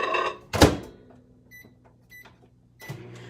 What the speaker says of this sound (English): I'm going to put this in the microwave and for about 30 seconds or so to melt it.